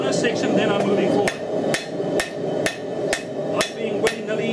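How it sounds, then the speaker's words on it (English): Forging hammer striking the edge of a steel knife blade, nine sharp metallic blows in a steady rhythm, close and loud over a constant roar, likely a forge fire. "I can now open up, get more comfortable while I'm hammering, and work on my edge"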